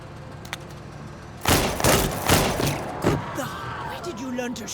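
Gunfire from a squad in the tactics video game Menace breaks out in a cluster of loud, close bursts partway through. Softer game sounds and brief tones follow.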